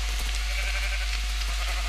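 A sheep bleats in the Minecraft video game, a short nasal call repeated over a steady low background.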